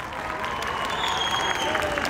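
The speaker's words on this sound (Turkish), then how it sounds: "Büyük bir alkış." Audience applause at a Yıldırım Municipality festival theatre performance, a short steady wash of clapping from a crowd.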